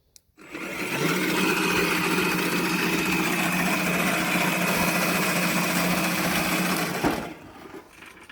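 A battery-powered Ozito PXC 18V 380mm cordless cylinder lawn mower, cut height set at 14 mm, whirs steadily through grass at close range. The motor-driven reel starts up, holds an even high-pitched buzz for about six seconds, then winds down.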